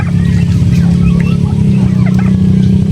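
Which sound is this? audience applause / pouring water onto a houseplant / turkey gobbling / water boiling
turkey gobbling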